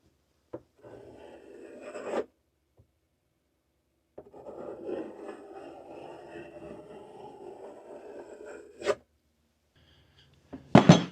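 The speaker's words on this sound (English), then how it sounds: "I'm going to use this compass to draw the circle" A pencil compass scrapes across a wooden board for an RV bench seat, drawing a circle in two soft, rasping passes separated by a pause and ending in sharper scratches.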